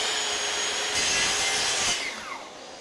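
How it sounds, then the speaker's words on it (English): A hand plane shaves the end grain of a solid wood edge, giving a close, continuous rasping hiss that swells over a stroke and then trails off. "then we're going to do some end grain planing"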